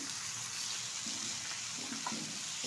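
Chopped ridge gourd with sugar and salt sizzles and hisses in hot oil as it is stirred, a steady close frying sound with faint scrapes and no talk.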